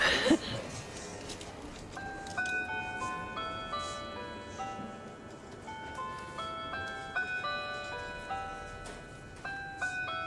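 A restored mechanical clock plays a melodic chime sequence of bell-like tones, clear and close, ringing out in a quiet repair workshop with a little faint background noise.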